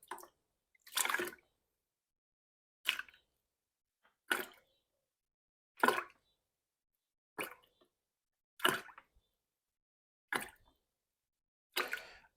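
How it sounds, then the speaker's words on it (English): Hydrogen peroxide, ten tablespoons, is added to a gallon of water for compost, giving a series of about nine separate splashy plops at steady intervals, each brief and fairly quiet against silence. "So I'm going to add 10 tablespoons of hydrogen peroxide to water."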